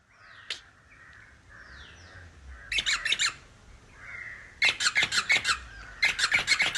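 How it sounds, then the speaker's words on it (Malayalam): Crows caw in quick bursts of several harsh calls, fairly close, with quieter bird chirps between the bursts. "എന്തൊരു കാക്ക കരച്ചിൽ ഇത"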